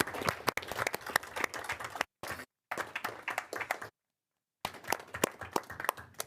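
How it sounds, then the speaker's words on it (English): Applause in a council chamber after a speech, a crowd of hands clapping steadily, broken by a couple of short dropouts before resuming. "There's lots of claps happening in the room"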